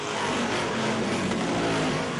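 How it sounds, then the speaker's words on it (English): Race cars leave turn four in single file, their engines a loud, continuous roar that holds steady throughout, with no talk over it. "Meanwhile, all the leaders go in single file out of turn number 4 with Lofton up front."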